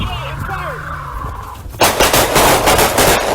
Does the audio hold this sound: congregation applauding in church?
no